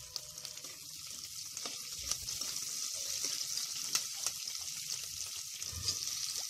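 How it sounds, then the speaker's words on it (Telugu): Chopped onion, tomato and green chilies frying in a pan for a mutton curry give a steady, close sizzle throughout, with occasional sharp clicks and scrapes from stirring and no talking. "ఈ ఉల్లిపాయలు టమాటా పచ్చిమిర్చి అంత బాగా వేగనివ్వాలి"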